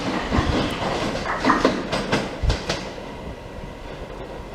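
Class 375 electric multiple units passing through Grove Park station, their wheels beating a steady clickety-clack over rail joints with a rolling rumble close by, heard alone with no voices.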